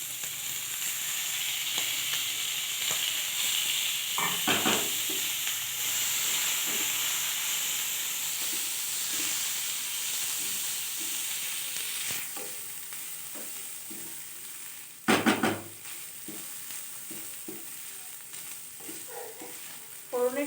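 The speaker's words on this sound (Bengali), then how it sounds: "সাথে নারকেলটাকে একটুখানি ভেজে নিলাম হালকা করে বেশি ভাজবো না একদম হালকা ভাজলাম" Grated coconut fries lightly in a pan for a chana dal dish, a soft, steady sizzle and hiss with scattered stirring scrapes and a couple of louder clatters, close with no talking.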